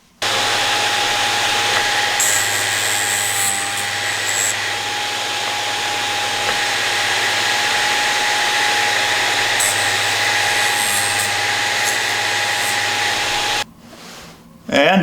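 A VEVOR drill sharpener grinds a drill bit at its sharpening station, giving a loud, steady motorised whine with a constant tone that runs near and continuous before cutting off abruptly, followed by brief handling noises.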